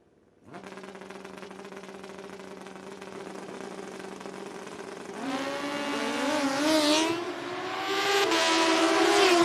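Suzuki motorcycles at a Midwest sportsman motorcycle race launch from the line, a steady engine drone rising into loud, climbing revs as the bikes accelerate away, fairly close and with no talk.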